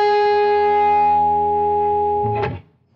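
An electric guitar harmonic played through distortion rings as a bright, sustained tone for over two seconds, then cuts off sharply with a short noisy burst at the end.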